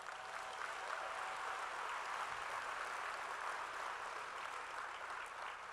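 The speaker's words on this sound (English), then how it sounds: "A round of applause." An audience at a State of the City event gives steady, even applause that fills the room for several seconds, a dense wash of clapping without voices.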